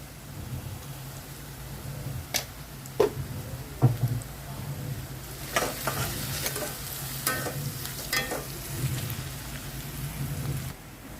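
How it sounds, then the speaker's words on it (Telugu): Sliced onions fry with a pinch of salt in a pan for mutton keema curry, giving a steady close sizzle with a few sharp stirring clinks and scrapes scattered through, no talking. "ఉల్లిపాయలు ఫ్రై అవుతున్నాయండి. ఉల్లిపాయలు ఫ్రై అవటానికి కొంచెం సాల్ట్ వేస్తున్నాను."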